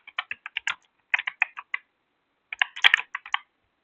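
Someone types on a computer keyboard while entering a name in KiCad 8.0 PCB software: quick bursts of crisp close key clicks, a short pause, then another flurry, with no voices.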